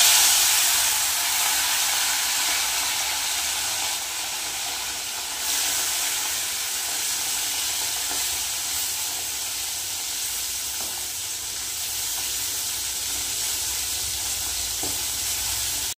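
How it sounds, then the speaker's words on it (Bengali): Khalse fish frying in hot oil in a wok give a loud, steady, close sizzle and hiss that runs without a break for about sixteen seconds, with no talking over it. "তেল গরম হয়ে গেছে, এবার মাছগুলো দিয়ে দেবো।"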